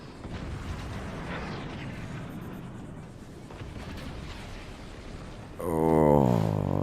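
Rolling explosions and cannon blasts from howitzer and cannon fire in the physics-based fort battle game Forts, a steady roar of impacts that ends in a louder, bright burst.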